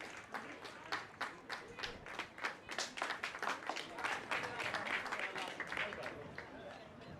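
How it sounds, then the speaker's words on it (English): Spectators applaud at an Oxford–Cambridge varsity athletics match after a track race, steady broadband clapping from a crowd with some voices mixed in throughout. "Penelope able to take some time to appreciate the applause."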